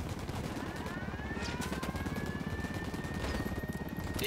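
A helicopter in the Ghost Recon Wildlands video game drones steadily with a dense rotor chop and engine rumble, continuous and fairly loud throughout.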